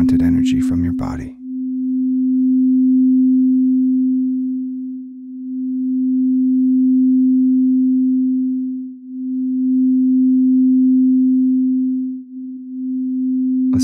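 Quartz crystal singing bowl tuned to F, a steady pure tone that swells and dips in slow waves for over ten seconds, preceded by a brief voice at the start.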